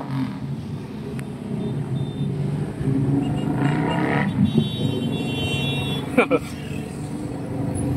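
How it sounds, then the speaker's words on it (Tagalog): A vehicle's muffler exhaust rumbles steadily on the Manila North Road near the Santo Cristo Flyover in Angeles City, with a louder swell partway through. Voices talk over the engine noise. "Kita niyo yung sound ng muffler niya."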